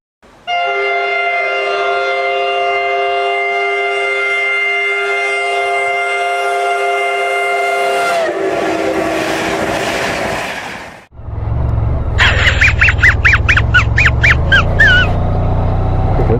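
A train rumbles through a railway tunnel beneath the listener by the Severn Estuary, with long, sustained horn-like tones, then a second loud passage with rhythmic clattering and squealing bursts, close and continuous.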